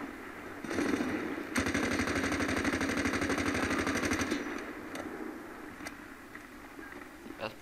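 Return gunfire in the 2010 Medal of Honor video game: a sustained burst of rapid automatic shots rattles for several seconds, then scattered single cracks follow at moderate loudness.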